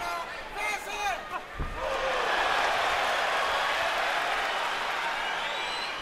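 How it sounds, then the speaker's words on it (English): Boxing arena crowd at a Miguel Cotto vs Sadam Ali fight swelling into a loud, sustained ooh and roar after a reaching punch, following a trainer's shouted instructions and a sharp impact. "Crowd oohs and ahs on a reach punch for Cotto."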